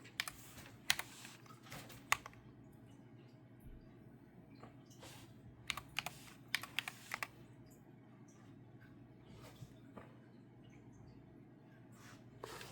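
Quick bursts of keystrokes on a computer keyboard, faint and close, with scattered clacks and short pauses over a low background hum.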